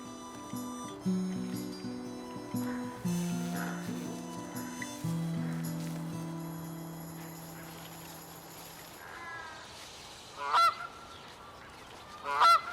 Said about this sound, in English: This couple of Canadian geese feels great here